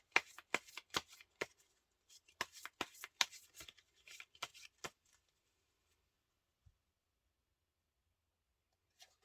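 Tarot cards are shuffled and drawn, a quick run of crisp riffling slaps and flicks close to the mic for about five seconds, then near silence with a soft tap or two.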